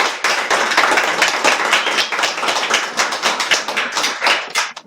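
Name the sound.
audience applause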